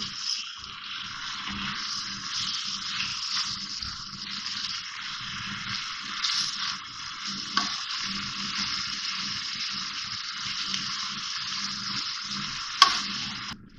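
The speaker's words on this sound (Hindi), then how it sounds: "कीमा डाल के भूनूंगी, इसका कलर चेंज हो जाए।" Machine-minced keema browning in a hot pan, a steady close sizzle and crackle of frying meat with occasional stirring scrapes and a sharp clink near the end, no voices.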